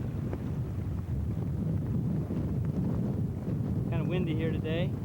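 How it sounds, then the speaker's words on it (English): Wind blows by the Quoich River in August, a loud, steady low rumble buffeting the microphone throughout, with a brief higher, voice-like sound near the end. "Kind of windy here today."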